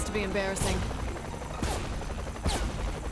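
Gunfire in the co-op game Saints Row The Third Remastered: three sharp shots spaced about a second apart over a dense, constant background of game noise.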